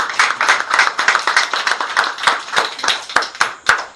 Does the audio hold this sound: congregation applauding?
yes